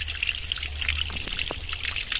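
Water trickles steadily from a mountain cave at a rocky pilgrimage spot during the dry season, a soft continuous dribble with a faint low hum beneath and no voices.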